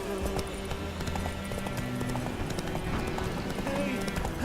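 Roach, a horse in The Witcher 3: Wild Hunt, trots with a steady clip-clop of hooves running through the whole stretch, close and clear over a low ambient bed, with a voice speaking over it.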